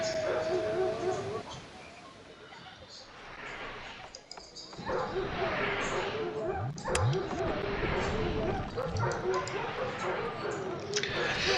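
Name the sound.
dog barking in the video game Port Royale 2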